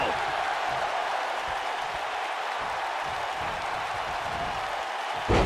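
Large capacity wrestling arena crowd at a Verne Gagne versus Fritz Von Erich match roars steadily and loudly throughout, a dense sustained cheer with a brief swell at the end.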